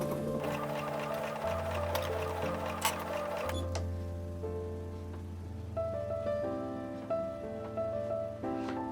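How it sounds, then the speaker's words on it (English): A home sewing machine stitching a fabric face mask with elastic, a quiet mechanical run that starts and stops in short bursts with faint ticking, no talking. "and then continue sewing"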